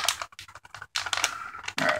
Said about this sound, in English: let's close our zipper.